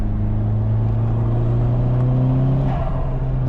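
A VW Golf Mk4 R32 fitted with a cold air intake cruises in fifth gear at 50 miles an hour, its engine holding a loud, steady low drone from inside the car.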